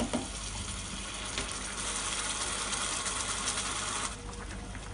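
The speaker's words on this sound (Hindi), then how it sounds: "मैं ऐड करूंगी 2 बड़े टमाटर की प्यूरी, इसे 1 से 2 मिनट अच्छे से भून लेंगे हम टमाटर को भी" Tomato puree frying in a pan for a mutton kofta curry gives a steady, close sizzle with a broad hiss that drops away abruptly near the end.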